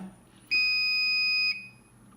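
A single steady electronic beep lasting about one second from an Apowers 1000 charging station, clear and fairly close, against a quiet background hum.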